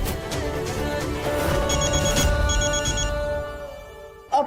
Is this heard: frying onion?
no